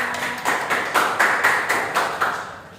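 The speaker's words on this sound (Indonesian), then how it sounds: "Bagus, tepuk tangan semuanya." Students in a classroom applaud together, a short run of roughly even, repeated clapping bursts close by with no talk over it.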